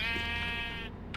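One drawn-out sheep bleat from a black sheep in Minecraft, loud and close, wavering and sustained for about a second with no talk.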